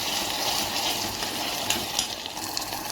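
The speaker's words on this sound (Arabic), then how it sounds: "خليهم بقى تشويح مع البصل الثوم تطلع" Garlic and onion sautéing in a hot pan for a trotters tagine, a steady close hiss and crackle of frying with faint stirring ticks, no voices.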